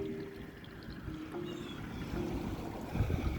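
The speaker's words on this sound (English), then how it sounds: "Nice smooth idle on this boat, you can barely hear it." A 2004 Century 2300 WA boat with a Yamaha four-stroke outboard idles smoothly and quietly, a low steady hum blending with water lapping and soft wind on the open water, with no talking.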